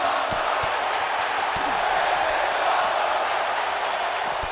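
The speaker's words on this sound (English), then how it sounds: "As the crowd chanting, this is awesome." A virtual arena crowd in the wrestling video game WWE 2K19 roars and chants during a Monday Night RAW match, a steady broad wash of massed voices with faint thumps, sustained and moderately loud.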